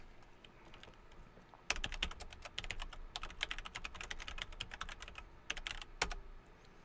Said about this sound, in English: I'll type it in for you if you need it.